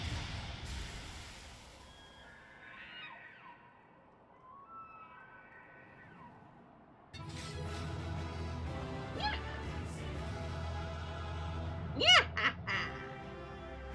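Bird enemies in Final Fantasy XIV Heavensward give quacking, squawking calls over game noise, with a loud burst of cries late on after a quieter stretch.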